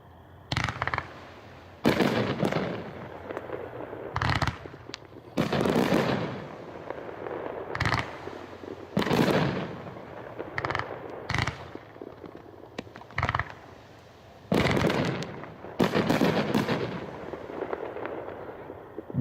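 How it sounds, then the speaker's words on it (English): A Hot Shot Bold Stripes and Bright Stars 25-shot firework cake going off at a demo, with a rapid series of loud booming launches and bursts in irregular clusters, some shots close together and others separated by short pauses. "That was Bold Stripes and Bright Stars"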